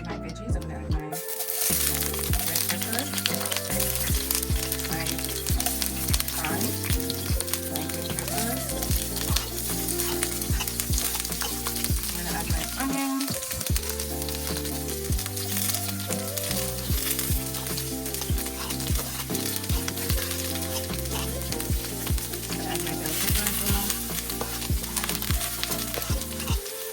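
Mixed vegetables sizzle steadily in a pan on medium heat, being sautéed for Jamaican steamed fish with okra. A dense, continuous frying hiss runs throughout, with tonal background music underneath.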